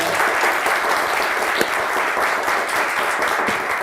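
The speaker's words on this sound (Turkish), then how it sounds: "Bir kuvvetli alkış alalım mı" A game show studio audience claps loudly and continuously, a dense, even wall of applause throughout.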